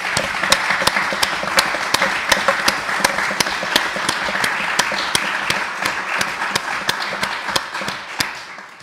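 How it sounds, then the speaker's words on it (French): A municipal council meeting in March 2021 breaks into sustained applause for municipal staff, many hands clapping steadily with a few sharp, evenly spaced claps standing out, and no talking. "Je pense qu'on peut les applaudir."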